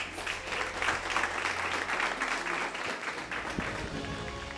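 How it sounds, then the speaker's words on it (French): Steady audience applause at a singing competition final after a performance, a dense continuous wash of clapping with a faint low hum beneath. "On applaudit Marie-Anne pour cette belle prestation"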